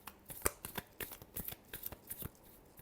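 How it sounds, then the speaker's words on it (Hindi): Tarot cards being shuffled in a final shuffle during an Aries weekly reading: a run of crisp, papery riffles and flicks in quick irregular bursts, close and fairly quiet, with no talking. "last shuffle"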